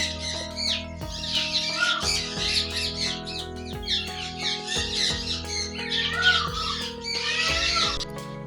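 Indian blue peafowl give loud, harsh squawking calls in repeated clusters over a steady tonal hum, close and alone without talk.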